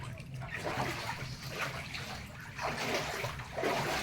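Floodwater washes and trickles inside a house in a continuous low sloshing flow with a few louder surges, fairly close and without talk.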